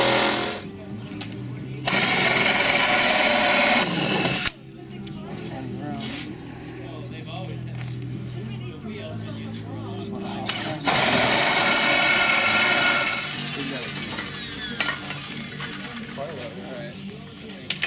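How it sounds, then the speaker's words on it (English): A hole saw bores through material in two loud, harsh whirring bursts separated by a quieter stretch. Men chat over the workshop background. "Getting a little experience on the hole saw."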